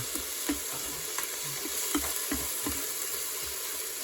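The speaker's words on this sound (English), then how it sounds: "I want to scramble this egg now in with the onion." Egg scrambles with onion in a frying pan, with a continuous close sizzle and repeated scraping stirs of the utensil at an uneven rhythm, and no voices.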